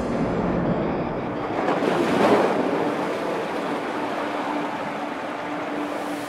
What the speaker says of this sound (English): we listen to the roar of the waves